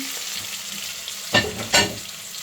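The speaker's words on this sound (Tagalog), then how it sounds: "So, gisa-gisa lang." Chopped tomato sautéing in a pan for a sweet and sour sauce: a constant soft sizzle broken by two quick scraping stirs of a spatula.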